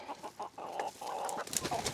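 About twenty-two roosters cluck and murmur inside a coop, a busy overlapping chorus of low calls with a few sharper notes, close and moderately loud, with no voice heard.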